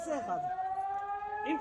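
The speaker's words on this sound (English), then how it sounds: "You can hear the air raid siren going off in the background." A steady air raid siren wails on one sustained tone in the background at a police station in Ofakim, Israel, during the October 7 attack, while voices speak over it nearby.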